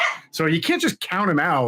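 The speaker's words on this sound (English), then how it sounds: "That's my dog." A dog barks and yips in the room during a sports talk discussion, the short barks mixed in with and partly under a man's continuous speech.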